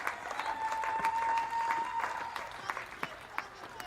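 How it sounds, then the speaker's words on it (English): Vociferous crowd at a women's cricket match, Leeward Islands v Jamaica, cheering and applauding steadily throughout, with a few sharper claps and shouts near the end over a continuous roar. "a loud and a vociferous crowd watching the culmination of this match"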